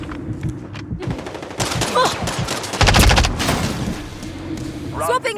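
Gunfire in Call of Duty: Modern Warfare 3 during an online match, loud rapid automatic bursts and sharp cracks densely overlapping, with a voice speaking in the clip.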